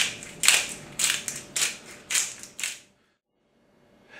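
A pepper mill grinds over a potato bake in five crunchy, close twists, evenly spaced about half a second apart, and then stops, leaving near silence.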